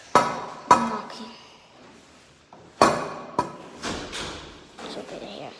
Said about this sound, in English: I'm knocking.